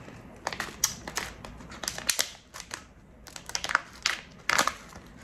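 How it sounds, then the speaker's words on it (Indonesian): Packet of fried shallots being torn open and handled at close range, a run of sharp crinkling and crackling plastic bursts at an uneven rhythm, with no voices over it. "Ya, udah aku buka bawang gorengnya."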